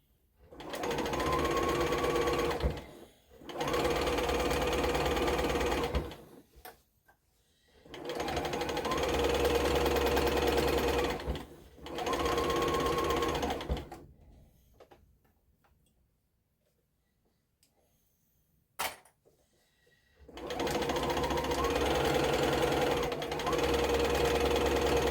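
A sewing machine stitches an easy cushion, running in several loud, rapid bursts of several seconds each, separated by pauses where the foot is raised to turn corners, with a long quiet gap before it starts again.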